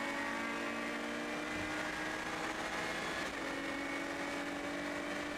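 Lotus race cars flat out through Stavelot at Spa, a continuous high-revving engine roar heard steadily and close, with no talk.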